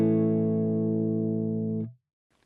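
An electric guitar on a clean tone rings out as one loud, sustained chord that holds steady for nearly two seconds before being cut off abruptly, followed by silence.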